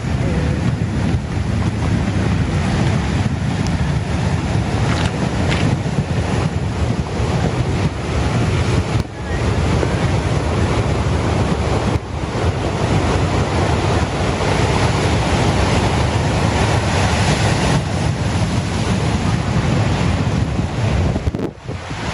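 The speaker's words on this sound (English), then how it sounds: "Waves are already reaching up to the road." Ocean waves driven by wind during Hurricane Beryl, recorded at St. Thomas where surf reaches up to a road, a loud continuous rushing roar with heavy wind buffeting on the microphone and no speech.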